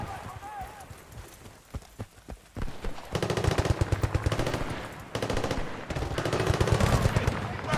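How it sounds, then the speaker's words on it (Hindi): Intense gunfire fighting in Battlefield: Bad Company 2, dense automatic bursts filling the last five seconds after a quieter stretch of scattered shots, loud and close, with a voice talking over it. "खतरनाक ही फायरिंग चल रही है।"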